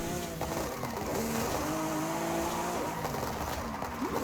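A Lamborghini SC20 on full drag tires with all-wheel drive and a drift build, in Forza Horizon 5, revs hard and holds a loud engine drone under long, wavering tire squeals, with no talk.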